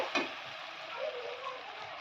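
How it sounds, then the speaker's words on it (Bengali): Soft, steady sizzle of onion and tomato frying in a pan, faint and continuous, with a small clink at the start. "এই দেখো আমার পেঁয়াজ টমেটো কিন্তু ভাজা হয়ে গেছে"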